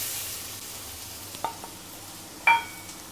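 Chopped, seeded and skinned tomatoes fry in a pan for pav bhaji, a soft steady sizzle under a few sharp clinks and scrapes of a spoon stirring against the metal, with no talk.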